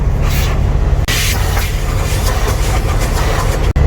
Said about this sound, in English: They're giving her the spray now